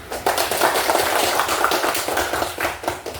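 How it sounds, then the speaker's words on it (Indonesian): A classroom group claps for a classmate, a brisk, fairly loud burst of many hands that carries on unevenly for a few seconds. "ya, silakan tepuk tangan"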